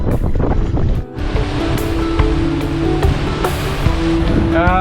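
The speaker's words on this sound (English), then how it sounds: "It's windy." Strong wind buffeting the microphone on a beach beside a boat, with a broad roar of surf and waves throughout, brief faint voices mixed in.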